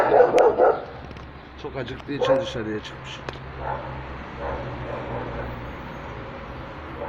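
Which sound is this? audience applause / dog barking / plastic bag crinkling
dog barking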